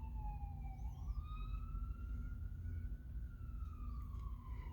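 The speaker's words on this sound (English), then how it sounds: "I've got a siren going by." An emergency vehicle siren wails as it passes, a steady rising and falling tone heard moderately far off over low background rumble, with no one speaking.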